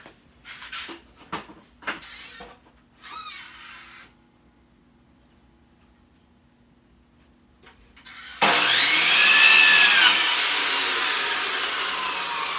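Power saw trimming wood for an outdoor patio lounger: a few scattered handling knocks and clicks, a quiet pause, then the saw spins up loudly and runs in a sustained, close, high whine while cutting.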